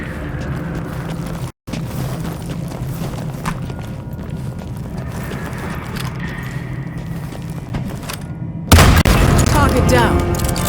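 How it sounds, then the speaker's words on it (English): Gunfire erupts in a Hitman shootout, dense booming shots rattling alongside game sounds, a brief dropout midway, then a louder, harsher burst of firing near the end. "He's shooting at me!"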